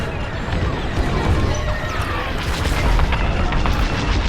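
Starfighters shoot in the Star Wars Squadrons space combat game, with dense, continuous laser fire, booms and crashing impacts filling the whole stretch at steady loudness.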